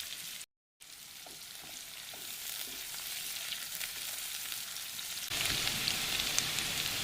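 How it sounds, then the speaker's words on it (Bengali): Dried red chillies, chopped onion and crushed garlic fry in oil, making a soft, steady sizzle with a few stirring taps that grows louder and brighter toward the end, with no voices. "ফোড়নে দিয়ে দেবো দুটো শুকনো লঙ্কা, পেঁয়াজ কুচি ও থেতো করে রাখা রসুনগুলো দিয়ে দিলাম।"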